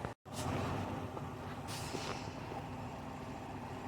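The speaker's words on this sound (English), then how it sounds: "I hit the brake" A truck's air brake hissing with a sharp release at the start, then the heavy engine of the truck rumbling steadily and loudly underneath, with a brief hiss burst midway.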